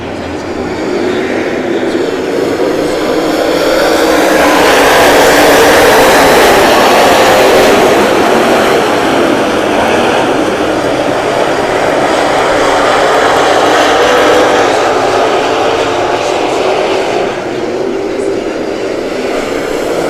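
Late model stock cars roar together off a green flag start, a loud sustained engine drone that swells past and holds steady, with a voice faintly audible beneath.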